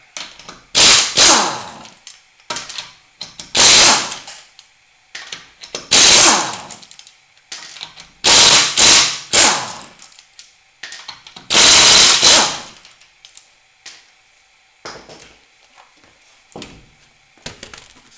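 An impact wrench rattles off a car's wheel lug nuts in repeated loud, close bursts of hammering buzz, separated by short quiet gaps and small clicks, no voices.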